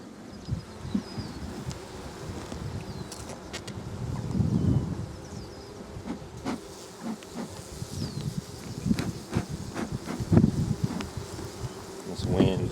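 Honey bees buzz continuously around the microphone at an open hive, with gusts of wind rumbling and buffeting over the drone at intervals.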